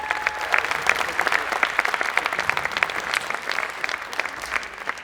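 An audience applauds a startup pitch winner at a tech event, a steady, crowded burst of many hands clapping with scattered louder claps throughout.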